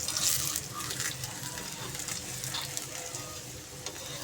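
A mooli paratha cooks on a hot pan with a soft, steady sizzle and faint crackle running throughout, fairly quiet and close, with no voices.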